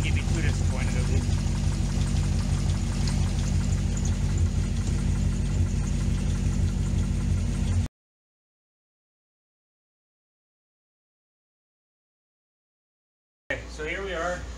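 A Corvette C6 with an LS2 V8 idles with lifter noise and a misfire, an uneven rumbling idle with rhythmic ticking, loud and close for about eight seconds before cutting out, then briefly returning with a person talking.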